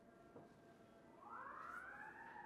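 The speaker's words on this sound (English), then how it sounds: "Now that we have sirens in the background anyway?" A distant emergency siren wails in the background during a talk, faint at first and then rising into a steady sweeping tone that grows slightly louder, with no speech over it.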